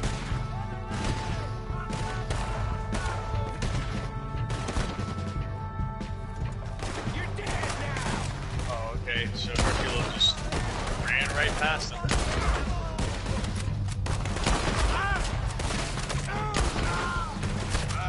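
Dense gunfire in Red Dead Redemption 2, with repeated shots and volleys cracking steadily through the whole stretch over a constant low rumble, with a voice speaking in places.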